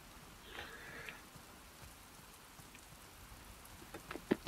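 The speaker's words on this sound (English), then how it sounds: "And it's raining, which is always nice." Steady, soft rain falling in the video game The Last of Us Part II, a faint continuous patter that builds into a few sharper drops and splashes near the end, with no talk over it.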